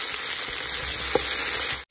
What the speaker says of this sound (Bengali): এখন এর মধ্যে দিয়ে দেবো পাকা টমেটোটাকে ভেজে নেব।